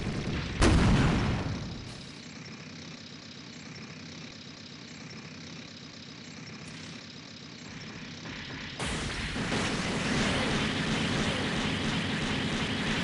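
Weapon fire in the SD Gundam Online game, with one sharp loud blast near the start followed by a steady mechanical drone, and then a harsher, louder roar of sustained firing and effects that comes in partway through.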